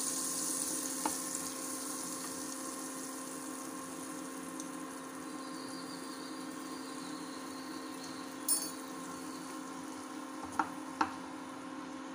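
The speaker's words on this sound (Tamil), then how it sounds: "இப்போ அடுப்பில் ஒரு பாத்திரத்தை வச்சு இந்த பட்டரை போட்டுக்கலாம்." Butter heating in a pan on the stove, a soft, steady low sizzle with a faint hum and a few small ticks and clinks, quiet and uninterrupted.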